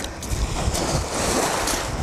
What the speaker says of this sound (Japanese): 波がきつすぎて、